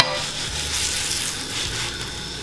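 Tattie scones fry in butter in a pan, a steady close hiss of sizzling that runs throughout, with faint low rumbles from the cooker underneath and no one speaking.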